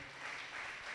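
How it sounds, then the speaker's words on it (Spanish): Church congregation applauding after a Spanish sermon: a brief, faint, steady wash of clapping from the crowd. "Dele un aplauso al Señor."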